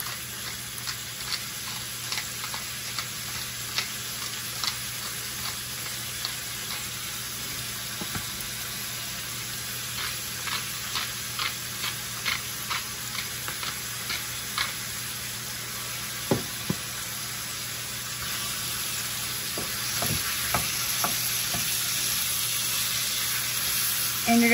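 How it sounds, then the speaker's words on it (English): Ground meat and onions sizzle steadily in a pan for a crockpot potato soup, with scraping stirs and clicks of a utensil recurring throughout, close and fairly soft. "you're gonna cook this until the meat is cooked through and the onions are nice and translucent"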